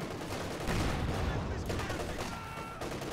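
An MG34 machine gun firing in a World War II strategy video game, sustained bursts blending into dense, loud battlefield gunfire while a commentator talks over it.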